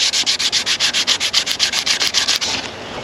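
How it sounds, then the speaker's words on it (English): Wet sanding on a Volkswagen Caddy barn-find project with 800 grit sandpaper: a steady series of about fourteen quick, even back-and-forth rubbing strokes, close and fairly loud, with no talk. "First, we want to wet sand it. We're going to start with an 800 grit,"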